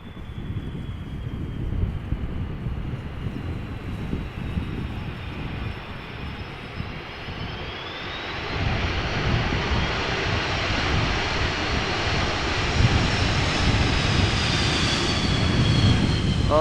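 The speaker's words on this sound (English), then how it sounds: "We did hear the engine spool up, but they did not go full reverse, unfortunately." An Airbus A330 lands at Amsterdam Schiphol, a jet roar with wind noise that swells noticeably around midway as the engines spool up for light reverse thrust, heard from a distance outdoors.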